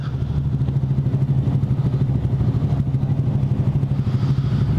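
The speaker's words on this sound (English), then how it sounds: "Honda Grom, 125cc." A Honda Grom 125cc motorcycle rides steadily with a constant low engine drone and some rattling clatter, loud and close throughout, with no talking.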